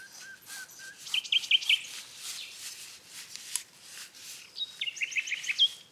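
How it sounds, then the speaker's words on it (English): Two nightingales sing back and forth outdoors at a wild campsite in the English countryside, with clear whistled phrases and rapid trills rising over quiet background chirps. "Listen to these nightingales, there's two dueling."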